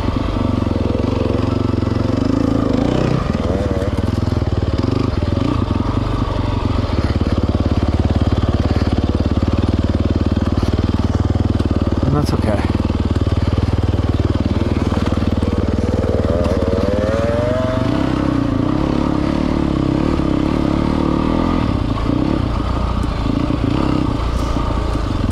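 Dirt bikes without handguards ridden on a trail, a loud continuous engine drone with shifting pitch and rattling clatter, close throughout.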